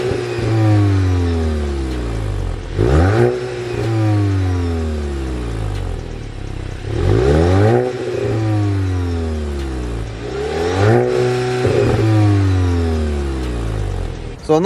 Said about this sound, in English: So I know that didn't probably sound that great because, one, it's a 2-litre 4-cylinder car.